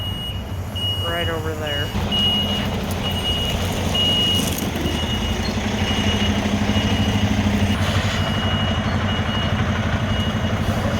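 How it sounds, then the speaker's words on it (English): A big truck reverses into a small spot, its backup alarm beeping in a steady repeated rhythm over a rumbling engine, with a brief voice speaking nearby. "It's got to back this big old truck into that little spot"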